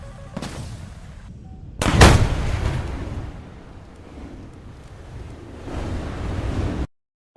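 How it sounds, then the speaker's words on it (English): An AIM-54 missile strikes the player's jet in War Thunder with a sudden loud blast, followed by a long roaring, windy rumble that swells and fades before cutting to silence. "I saw that missile coming at me"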